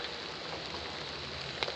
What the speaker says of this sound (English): the rain is coming, at least for a short while